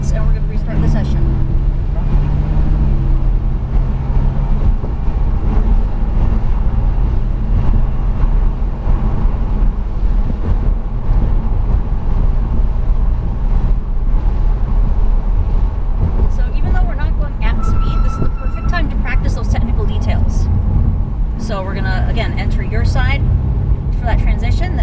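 A Lamborghini Huracan drives at a relaxed pace on a track, its engine a low steady drone with wind buffeting close to the microphone. Someone talks over it almost throughout.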